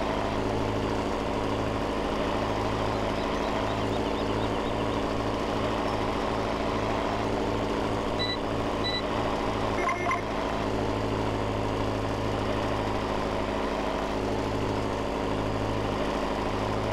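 A tractor engine in Farming Simulator 17 idles and rumbles steadily at a low pitch, with a faint rhythmic pulsing in the drone and no voices over it.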